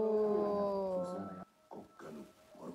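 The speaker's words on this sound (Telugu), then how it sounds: "కుక్కలు మరుగుతాయి." Dogs in a scene from the Telugu film Ready howl. One long, wavering tonal howl is followed by several shorter yelping, whimpering cries after a brief pause.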